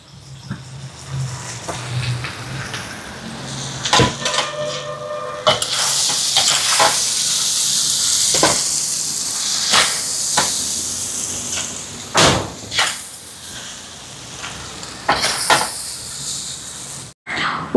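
Brinjal frying in a pot, a steady hiss and sizzle broken by sharp clatters and scraping stirs, with a louder burst of steam partway through and occasional knocks against the pot.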